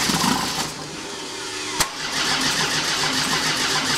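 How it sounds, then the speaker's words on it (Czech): A VW T4 Transporter diesel, converted from a 2.4 to a 2.5 TDI, is cranked, catches and runs: a loud, close starter churn, a sharp knock, then a steady rough idle. "A vyzkoušíme to nastartovat, jestli to poběží, jestli nám to dneska chytne."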